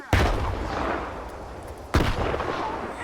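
Two heavy grenade blasts in the S.T.A.L.K.E.R. 2 video game, each a sudden loud boom with a rumbling decay, the second landing about two seconds after the first. No voices are heard.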